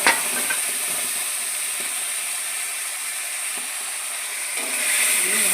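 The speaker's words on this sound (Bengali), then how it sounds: "ভালো করে আলুর সঙ্গে মশলাটা ভেজে নেব" Ground spice paste of cumin, tomato and chili sizzles steadily as it fries with potatoes, with a few scraping stirs and no talking.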